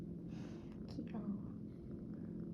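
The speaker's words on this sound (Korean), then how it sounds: "골골대." A cat purrs steadily in a low, continuous rumble while resting on someone's lap at home, with soft human murmuring over it.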